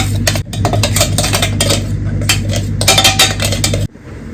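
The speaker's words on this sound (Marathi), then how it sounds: "मी प्लेटमध्ये काढून घेते मसाला" Repeated metal scraping and clinking of a spoon against a pan and plate as masala for ridge gourd curry is transferred onto the plate, busy and close, ending abruptly.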